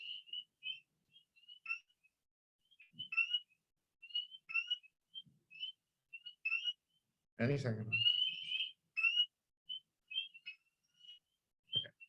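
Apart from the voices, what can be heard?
frog call with a trill, early spring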